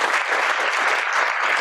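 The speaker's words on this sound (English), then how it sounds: "Another applause, round of applause for John Hodgson." Audience giving a round of applause for John Hodgson at a historical society event, a loud dense wash of many hands clapping steadily and close, with no talk over it.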